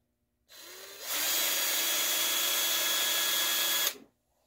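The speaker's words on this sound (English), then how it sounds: "I had some issues with this drill." A power drill spins up briefly, then runs at a steady high whine for about three seconds before cutting off abruptly, loud and close with no talking.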